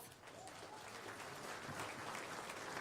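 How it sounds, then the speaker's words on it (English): An audience at a county sheriff's campaign announcement for governor claps steadily for a few seconds, a dense, even wash of many hands heard from a distance and fairly faint. "let's give yourselves a round of applause"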